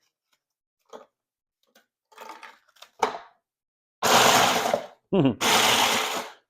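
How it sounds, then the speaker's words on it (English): A food processor pulses sixteen Nabisco crackers into coarse crumbs, two loud grinding bursts near the end after a few faint clicks and a brief spoken word. "I'm just kind of break it up coarsely in my food processor"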